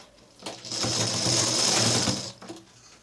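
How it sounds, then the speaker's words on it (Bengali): A sewing machine runs a continuous stitching burst along a folded lungi hem, starting and stopping cleanly, close and loud with no talk over it. "দেওয়ার পরে এখান থেকে একটা সেলাই দিয়ে দেব।"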